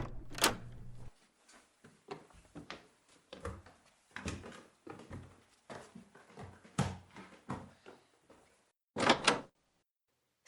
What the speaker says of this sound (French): Qu'attends-tu pour m'ouvrir la porte?